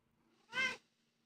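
A pet cat gives a single short, sad-sounding meow, close and clear against near silence.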